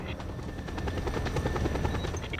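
A helicopter flies in the Just Cause 2 video game, its rotor blades thumping in a fast, steady beat with a constant engine whine, loud and close without pause.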